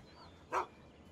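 A dog in the Fallout video game gives a single short bark, faint and slightly distant, over a quiet background hum.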